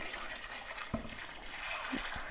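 Lukewarm sugar solution poured onto pineapple for homemade wine, a soft continuous liquid pour with a couple of small splashes, close and fairly quiet.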